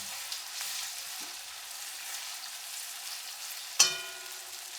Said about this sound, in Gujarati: એક મિનિટ ખાલી એને ફેરવાનું આપણે